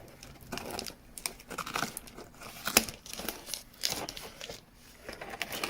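Packaging around a YJT DM-6100 dual-band digital portable radio being cut open, with a string of crinkling, tearing and snipping sounds at close range, in irregular bursts with brief pauses and no talk.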